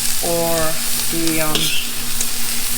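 Chow mein noodles being stir-fried with meat and vegetables, a steady close sizzle and scrape of stirring throughout, with a brief word spoken over it.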